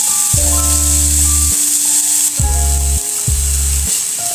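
Vegetables sizzle steadily in a pan for egg noodles, a close frying hiss under a few low humming tones.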